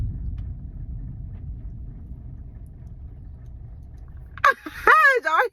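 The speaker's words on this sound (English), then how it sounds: "Did y'all hear that thunder?" Low, rolling thunder rumbles steadily for several seconds during rain, heavy at the bottom and fairly close, then gives way to a person speaking.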